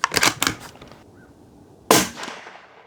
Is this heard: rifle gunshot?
yes